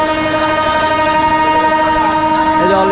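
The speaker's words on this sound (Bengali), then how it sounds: "এই যে অলরেডি একটা ট্রেন ছাড়বে," A departing train at Cox's Bazar railway station sounds a loud, sustained horn in layered steady tones that runs through the whole stretch, with a slight pitch shift near the end and a faint rumble of railcars underneath.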